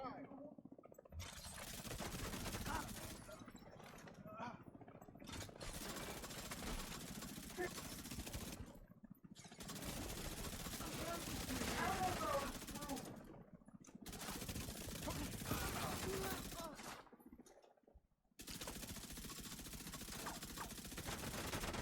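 Backfire SMG fire in The Division 2 comes in long sustained bursts of rapid shots, broken by short silent pauses, with a voice talking over part of the shooting.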